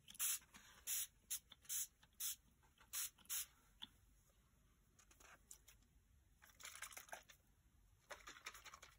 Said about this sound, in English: So I'm just going to spray some of this